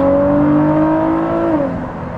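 A Ford GT fitted with a Quicksilver Inconel exhaust revs once, its loud, close engine note climbing smoothly in pitch for about a second and a half before dropping away as the throttle is released.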